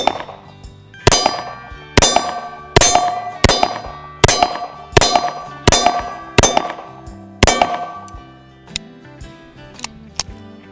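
A Colt Challenger pistol fires a string of about a dozen shots, each a loud sharp crack followed by a ringing clang from a steel pig target, steady evenly spaced rhythm with slight echo.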